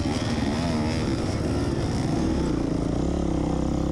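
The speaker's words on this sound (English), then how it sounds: "I ride a 4-stroke bike. It's a Honda CRF 250." A Honda CRF 250 four-stroke enduro motorcycle engine idles and runs at a steady, throbbing pitch on muddy hill terrain, loud and close throughout.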